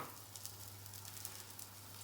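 Sausage and bacon sizzling together in a hot frying pan, a quiet, steady crackle close by with no talking over it.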